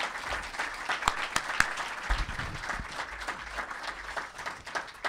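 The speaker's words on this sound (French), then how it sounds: "je vous demande de l'applaudir très chaleureusement" An audience at a festival press conference applauds warmly, a continuous patter of clapping from a modest crowd, fairly close, lasting the full few seconds with no talking over it.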